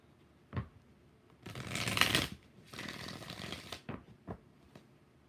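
Tarot cards are shuffled close up in two riffling bursts, with a few light taps and flicks around them in a quiet room.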